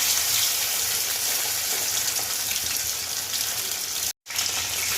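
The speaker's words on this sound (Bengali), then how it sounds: "দুটো মাথা আছে মাথা দুটো ভেজে নেব" Two bhetki fish heads frying in oil give a dense, continuous sizzle with a brief dropout near the end, close and loud with no talking.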